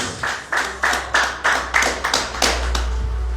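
A church congregation at a mission service claps in unison, about eight sharp, evenly spaced claps, loud and close, settling into a steady low hum at the end.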